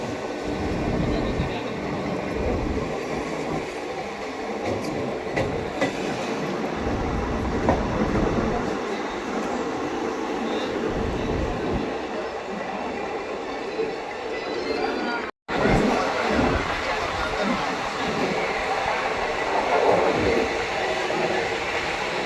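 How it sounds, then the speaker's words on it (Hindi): A train rumbles steadily past on a curve near New Delhi with a continuous roar and rattling wheels, loud and sustained, with voices occasionally audible beneath the noise. "ये देखिए कितना सुंदर कर्व ले रही है ट्रेन।"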